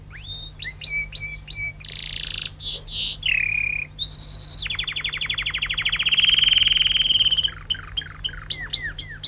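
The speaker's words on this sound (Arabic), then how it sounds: "أيها العندليب، غرد، أرجوك غرد كما تغرد دائما في الغابة بصوتك الجميل." A nightingale sings in an emperor's great hall, a bright varied song of whistled phrases, chirps and a long rapid trill, clear and close over a low steady hum, with no talking.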